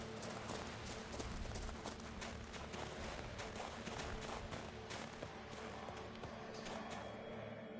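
Horse hooves galloping in the game Witcher 3, a fast continuous clatter of hoofbeats under a dense wash of other game noise, steady throughout.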